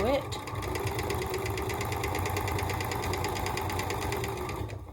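A sewing machine runs continuously, stitching quilt nine-patch block pieces in a close, even rhythmic chatter that lasts the whole moment.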